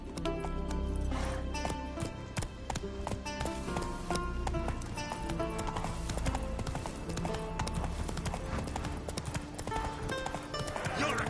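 Roach, the horse in The Witcher 3, gallops in a fast, steady clip-clop of hooves that runs throughout, loud and close over continuous game music and ambience.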